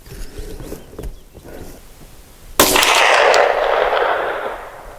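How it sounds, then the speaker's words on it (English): A single .22 rifle shot firing a CCI Stinger round, a sudden sharp crack at mid-clip followed by a long, echoing decay over outdoor background noise. "We're gonna have to shoot a few rounds to also foul up the barrel."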